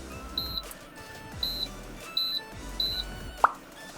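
Four short, high electronic beeps sound at an even pace from an IH induction cooking heater under repair as its heat button is pressed, close and clear over faint handling noise and a soft click.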